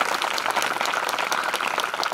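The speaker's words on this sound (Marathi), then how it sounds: "माव टाळ्या चांगल्या वाजवा मा" An audience at a Marathi kirtan breaks into dense, sustained clapping, loud and even, with no voices over it.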